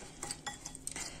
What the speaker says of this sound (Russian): размешать